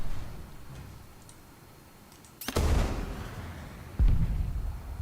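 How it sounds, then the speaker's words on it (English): Tank cannon fire in War Thunder comes as two loud, sharp blasts a moment apart, each with a deep rumbling tail, after a quiet stretch of faint ticking. "I might be shooting at the turret of a dead tank that flew off"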